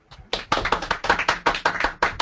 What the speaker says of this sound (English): can you guys give a round of applause for Mr. Sree Kumar's seminar today?